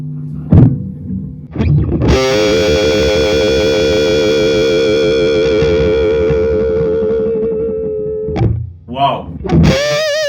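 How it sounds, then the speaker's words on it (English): A Vox AC50CP guitar amp plays through the neck pickup with gain maxed into heavy fuzz, giving a thick, sustained distorted chord that rings for several seconds between short picked notes and a sharp attack. "So now it's gone fuzz, full fuzz mode."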